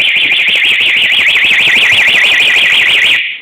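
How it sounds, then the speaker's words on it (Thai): A car anti-theft alarm set to low volume sounds a steady warbling siren tone that rises and falls continuously for about three seconds, then cuts off abruptly. "เห็นไหมเวลา ใคร โดน รถ มัน จะ ร้อง เลย นะครับ"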